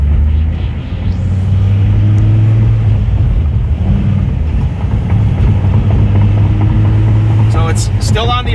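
A 2001 Dodge Viper GTS ACR with about 8,000 miles, on its original tires, drones steadily and loudly from inside the cabin during a drive. A low engine rumble holds throughout.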